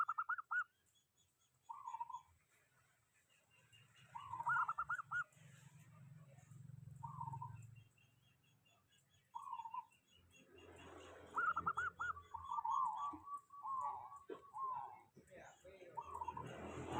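Perkutut zebra doves cooing in a quiet spot, short repeated rolling coos spaced a few seconds apart, growing into a longer trilled run near the end, moderately close, with faint background noise.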